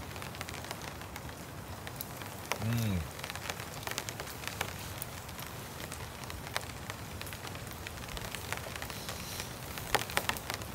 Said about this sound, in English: A little bit of rain's come back.